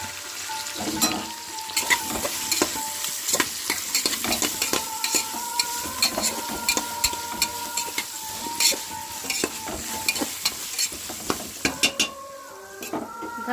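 Ginger garlic paste fries and sizzles in a pan with vegetables for a prawn curry, a steady hiss under frequent stirring scrapes and clinks of a spoon against the pan, close and continuous without talk.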